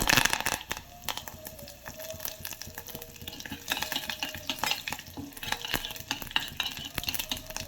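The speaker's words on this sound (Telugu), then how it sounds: "అందులోని కొన్ని ఉల్లిపాయలు కొంచెం ఉప్పు వేసుకునేసి బాగా వేయించుకోవాలి" Seeds, coriander and onions fry in hot oil for a mango pickle, giving a steady sizzle broken by frequent scraping and clinking of a spoon stirring in the pan.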